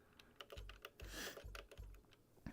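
Rapid computer keyboard clicking during typing, close and steady with uneven bursts of keystrokes and a few heavier thumps, no voices.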